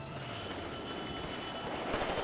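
A plane in the Titanfall game, a dense, steady roar of aircraft engine noise that swells slightly toward the end, heard alone without talk.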